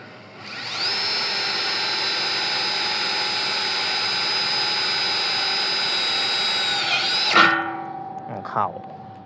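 A Masaru SCDI-105 cordless impact drill boring into a thick steel post whines at a steady high pitch for about seven seconds, then spins down and stops, followed by a couple of short knocks.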